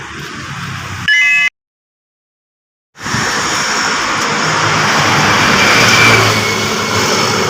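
Loud road traffic passes on a busy road along the walking route to Yadagiri Gutta. A steady roar of engines and wind briefly cuts to silence partway through, then resumes and builds gently.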